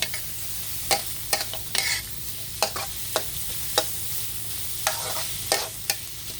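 Pork and ginger are stir-fried in a pan, with a steady sizzle under repeated sharp scrapes and clacks of a utensil stirring at an irregular pace, close up.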